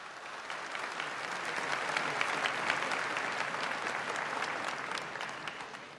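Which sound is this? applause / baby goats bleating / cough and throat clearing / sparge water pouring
applause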